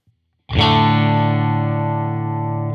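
After a brief silence, a single loud distorted electric guitar chord, run through a reverb plugin set between reverb and room, rings out and sustains with a slight wash of ambience.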